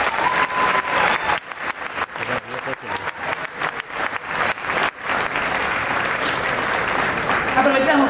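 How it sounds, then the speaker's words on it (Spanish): Audience applause at a world tango championship, vigorous clapping in waves with a Spanish-speaking announcer talking over it. "Un aplauso fuerte."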